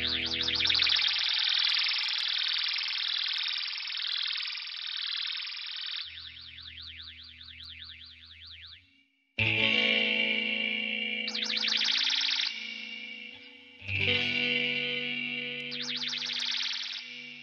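ALABS Novadrift multimod guitar pedal with its ramping function engaged: heavily modulated, distorted guitar tones whose warbling sweep speeds up and slows, with brief pauses between loud swelling passages.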